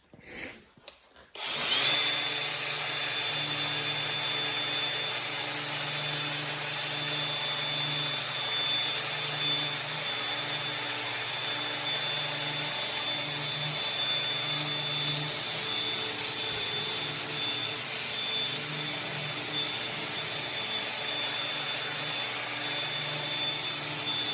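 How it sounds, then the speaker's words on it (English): Belt sander attachment fitted to a 4.5-inch angle grinder beveling and smoothing a corner edge, running as a steady, loud high-pitched whine with gritty abrasive rasp that starts abruptly after a brief pause and holds continuously without talk. "I'm going to use the belt sander to smooth that edge off and just bevel that whole corner there."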